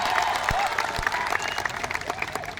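Applause from a crowd at a sit-in protest over human rights violations in Manipur, a steady burst of clapping with a few louder claps, fading slightly toward the end.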